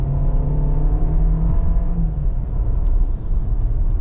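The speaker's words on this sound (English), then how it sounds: "Up the gears we go." A 2025 Volkswagen Jetta S compact sedan with an 8-speed automatic accelerates, its engine droning loud and steady from inside the cabin, with a gear change audible as the pitch drops partway through.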